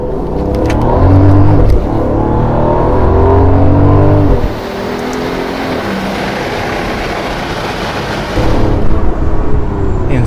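A Brabus S650 Maybach S-Class with 900 horsepower accelerating hard in sport mode, its engine roaring loudly through rising gears, then a brief dip before it surges again, heard from inside the car.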